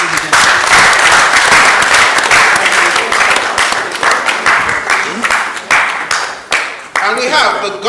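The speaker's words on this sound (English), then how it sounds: "Please keep clapping up again" An audience at an event for state governors keeps up loud, sustained applause, dense overlapping claps with brief dips, and a voice speaks over it toward the end.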